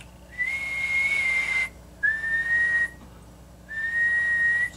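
Three steady, sustained whistled tones, each about a second long with short gaps between them, are whistled into a radio transmitter microphone that feeds a tube reverse preamp on a bench.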